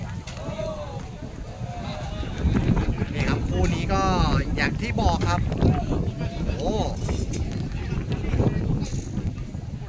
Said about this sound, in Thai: มีทั้งฝนมีทั้งลมด้วยนะครับตอนนี้